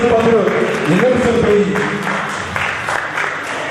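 Audience applause at a French trophy presentation ceremony, clapping running beneath a voice speaking over a microphone and continuing after he pauses.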